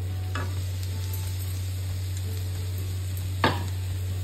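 A spoon stirs sweet pooran poli filling in a pan, giving two distinct scraping strokes about three seconds apart over a steady low hum and soft background sizzle.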